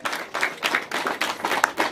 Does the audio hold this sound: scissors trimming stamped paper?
no